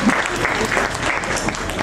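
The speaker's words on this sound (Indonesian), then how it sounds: "Tepuk tangannya buat kita semua." An audience at a school parenting seminar bursts into brief, steady clapping from many hands, dense and fairly close, lasting under two seconds.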